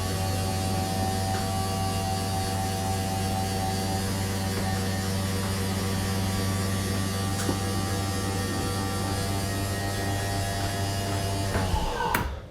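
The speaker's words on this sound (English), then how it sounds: "that slide out's gonna start moving" Electric slide-out motor on a 2022 Forest River XLR Boost 35DSX11 toy hauler RV runs with a steady, loud mechanical hum and buzz for about twelve seconds, then cuts off with a short clunk at the end.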